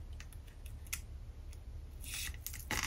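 Scissors snipping through plastic wrapping around an organza and satin ribbon, a series of quiet, sharp clicks and cuts close up, ending in a louder crinkling rustle.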